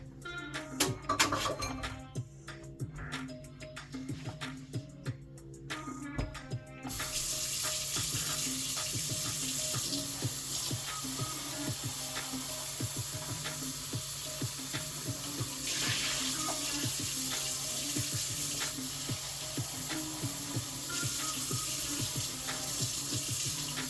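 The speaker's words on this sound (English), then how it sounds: "I gotta rinse out this, the cup that it was made in" A cup is rinsed under a running kitchen tap, starting with clinks and water splashes before the stream settles into a steady, continuous rush that fills the rest of the clip, close and moderately loud, with no talk.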